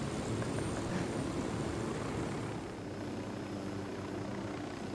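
Two helicopters trail close behind in Ghost Recon Wildlands, their rotors producing a steady, loud, throbbing drone that fills the whole stretch with no talk over it.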